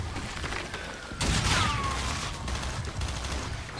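In Call of Duty: Infinite Warfare, gunfire and battle noise rumble through a dense combat soundscape, with a louder burst near the middle followed by a sustained chaotic din.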